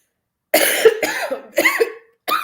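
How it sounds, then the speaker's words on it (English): A few sharp, rough coughs in quick succession, close and fairly loud, with brief pauses between bursts. "Bear with my cough."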